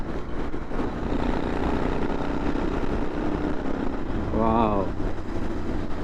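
A Royal Enfield Interceptor 650 fitted with a Raptor exhaust runs with a steady, throaty engine drone under a man's excited exclamation.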